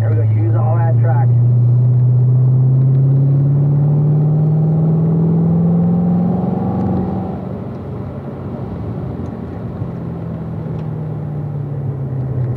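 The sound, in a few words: race car driving around track, engine accelerating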